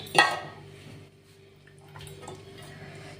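Two pieces of katla fish are set into a dish for Bengali-style steamed fish, giving one clear clink of metal against the dish at the start and then soft faint handling noises.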